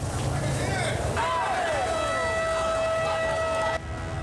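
A fire engine's siren wails through a street at a fire scene, rising and falling over crowd babble and traffic noise, moderately loud, with a voice talking over it.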